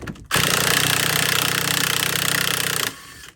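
An impact gun takes a wheel nut off a golf cart during hub bearing work, giving one sustained loud hammering rattle of about two and a half seconds, close up, with no talk.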